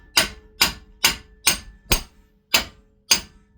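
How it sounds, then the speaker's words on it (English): A Milwaukee sledgehammer taps a pickle fork wedged at a Jeep Wrangler drag link and pitman arm, giving seven sharp metallic strikes at a steady pace, each ringing briefly before the next, close and loud with no talk. "Get our sledgehammer, which I got another one, Milwaukee here. And we're just gonna nicely tap this"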